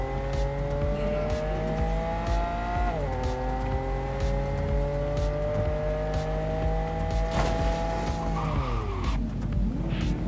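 A car in the video game Cyberpunk 2077 with a loud, steady engine drone whose pitch rises and falls between gear shifts, plus tire squeal and skidding, continuous for about ten seconds.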